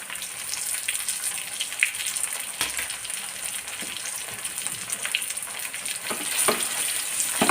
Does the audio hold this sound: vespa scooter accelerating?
no